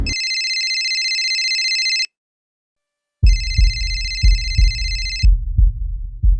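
An outgoing phone call rings back in two long electronic tones separated by a short silence, then low thumping beats take over.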